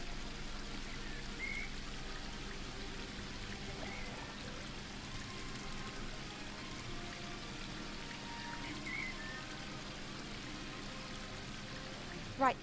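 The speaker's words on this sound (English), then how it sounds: "pour the water into the bowl and it will become spring water" Water pouring into a bowl in The Book of Unwritten Tales 2, a steady splashing trickle lasting throughout at moderate level with a slight sharp knock at the end.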